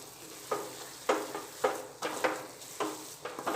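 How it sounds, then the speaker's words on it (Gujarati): Farali sukhdi batter stirred in a pan on the stove, a spoon scraping through it in repeated strokes about every half second, each stroke a soft rasp over a faint sizzle. "સતત આ રીતે મિક્સ કરીશું"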